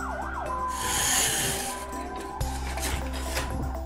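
A wailing electronic siren from a toy ambulance sweeps up and down over a steady mechanical hum, loud and close, with a jolt partway through.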